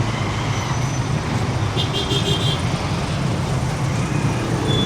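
Dense midday traffic jam on a Kampala street, a steady close wash of car, truck and bus engine rumble with no pauses, and a brief high whine rising over the idling mass for a moment.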